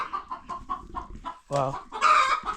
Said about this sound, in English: inside there we have the hens which are laying eggs